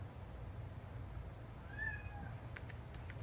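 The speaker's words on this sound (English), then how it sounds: "So if you hear my cat, it's okay." A house cat gives a single faint meow indoors, a short rising-and-falling call heard from a little distance over a steady low room hum, with no talking.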